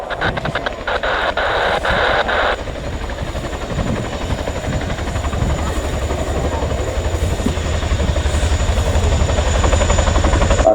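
A display aircraft at the Royal International Air Tattoo taxis and flies backwards after stopping on its back wheels, its engines giving a loud, steady, droning roar close by with a rhythmic throb that continues throughout.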